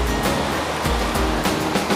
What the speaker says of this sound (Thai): นั่งฟังเสียงคลื่นนะคะ